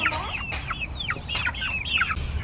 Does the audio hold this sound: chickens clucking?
yes